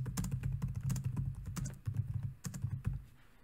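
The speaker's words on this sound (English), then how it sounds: "I'm going to type in this." Typing on a computer keyboard: a steady run of fairly quiet, close key clicks in uneven bursts, with no talk over them.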